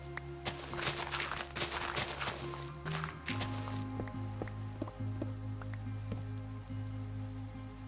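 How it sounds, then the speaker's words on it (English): Rain in Minecraft pattering steadily as a soft, continuous hiss of drops, with a few clicks and taps over a low background tone and no talking. "I don't like building in the rain, it distracts me a lot."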